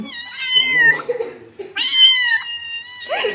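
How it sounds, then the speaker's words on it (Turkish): Newborn kittens meow repeatedly in a garden, high-pitched cries close by, with brief pauses between calls and a faint low murmur underneath. "Elif yavru kedi sesleri geliyor."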